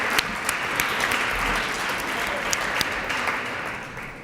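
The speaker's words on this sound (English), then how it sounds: "I think we need to give another round of applause to that." Audience applause after a keynote speech, steady clapping from a seated crowd with a few sharper individual claps standing out above the wash, faint murmuring underneath.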